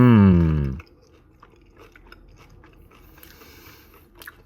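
Someone bites into a crispy Taco Bell taco loaded with nacho cheese and sour cream, after a short voiced hum, giving a few close, dry crunches and quieter chewing that taper off.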